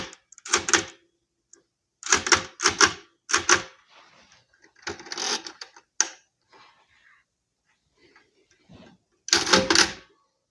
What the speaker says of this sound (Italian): Ora me ne sto zitto così sentite i numeri mentre li digito.